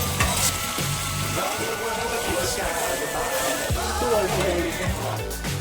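Egg curry masala sizzles in a pan as tomato sauce, soy sauce and water go in, a dense frying hiss with stirring scrapes under tonal background music.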